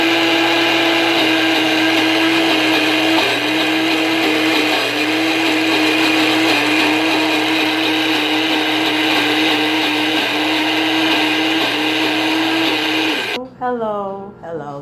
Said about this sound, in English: I'm just gonna grind it.